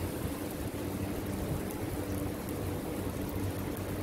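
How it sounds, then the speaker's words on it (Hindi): Rain falls steadily in Abu Dhabi during the first rain of 2021 amid strong wind near the sea, a dense, even wash of drops that stays constant throughout with no voices. "मेरा तो सच में दिल कर रहा है कि इस वक्त बारिश में निकल जाऊं"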